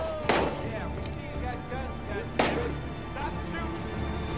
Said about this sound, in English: we see you got guns, guys. Stop shooting.